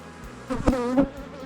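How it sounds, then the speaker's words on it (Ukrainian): Honeybees buzzing at an apiary hive before swarming, a brief close hum that swells and fades over about a second. "Трошки вже бачу такий передройовий стон."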